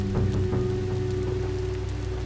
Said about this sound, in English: Rain pours down onto the naked city, as cold and oppressive as ever.